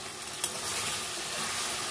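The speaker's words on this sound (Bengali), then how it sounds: "মশলাটা বেশ কষা হচ্ছে" Spice paste sizzling steadily in hot oil in a home kitchen, a continuous close crackling hiss with a brief clink near the start and no talking.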